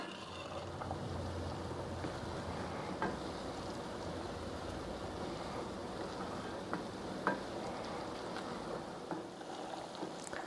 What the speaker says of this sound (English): We're looking for a full rolling boil that can't be stirred down.